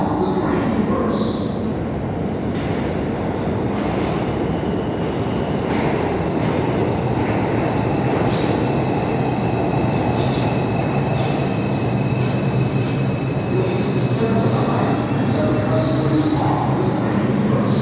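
New York subway train at Chambers Street station, a loud continuous rumble of cars and wheels on track with faint squeals and clatter, close by and steady throughout.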